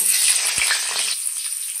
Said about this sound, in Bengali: ব্রেস্তা ভাজা তেলে আলুগুলো ভেজে নিচ্ছি।